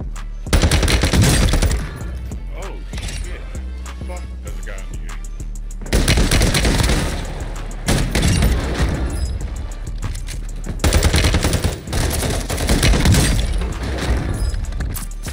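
Rapid bursts of video game gunfire and sniper shots crack through a firefight, loud and dense in several volleys, with voices talking over the shooting.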